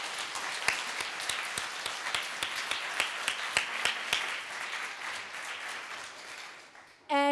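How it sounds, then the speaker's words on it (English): A small audience at a talk applauds for a drawing: steady clapping with a few sharp, distinct claps standing out, fading gradually before a voice cuts in at the very end. "I would like to invite you to applaud Marina for the great drawing she's made"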